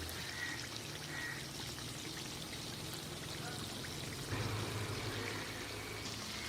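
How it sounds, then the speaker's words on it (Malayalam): Oil poured into a pot of rice for Kerala chicken biryani, a soft continuous trickling and splashing heard close by over a faint background hiss, with a brief louder splash near the end. "നമുക്ക് ഇതിനകത്തേക്ക് ശകലം എണ്ണയും കൂടെ ഒഴിച്ചു കൊടുക്കാം"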